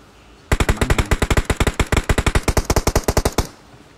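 Rapid automatic gunfire in the mobile battle royale game PUBG Mobile, a loud, close, unbroken burst of about thirty evenly spaced shots lasting around three seconds, with no talk over it.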